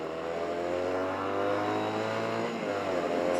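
A 1979 Honda TwinStar 250cc motorcycle engine idling, a steady droning hum with a slight dip in pitch near the end, close and clear with no talking.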